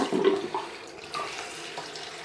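Cold tap water runs into a small shaving bowl, a steady splashing flow heard close up and on its own.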